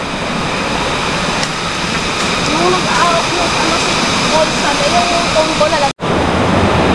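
A mountain river rushes over rocks on Mt Bisol in Carranglan, Nueva Ecija, a loud, continuous, close roar of water with faint voices beneath it.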